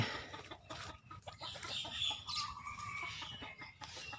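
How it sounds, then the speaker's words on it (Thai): Chickens cluck in short, repeated bursts close by, a busy flock chattering over soft outdoor background noise. "นี่ก็จะมีไก่อีกหนึ่งฝูง ไก่พวกนี้กำลังวิ่ง"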